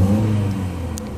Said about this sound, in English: see as we increase the revs